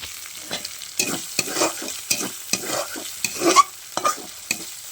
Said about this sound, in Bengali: মাছটা ভালো করে ভাজা ভাজা করে নিতে হবে